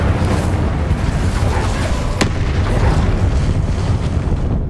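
Incendio fire spell in Hogwarts Legacy on PS5, a loud roaring whoosh of flame and dense rumble amid combat, with one sharp crack midway through the continuous blaze.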